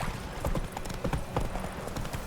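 Roach, the horse in The Witcher 3 game, trots along with steady, rhythmic hoof clip-clops at moderate volume.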